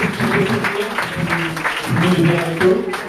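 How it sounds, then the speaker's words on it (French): Applause from an audience at a republican ceremony at Constant Le Ray middle school, a steady, dense clapping sustained throughout with voices mixed in. "je vous propose de les applaudir"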